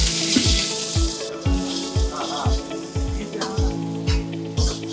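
Garlic, green chilli and onion frying in hot oil give a steady close sizzle, broken by repeated low clanks and scrapes of stirring through the five seconds.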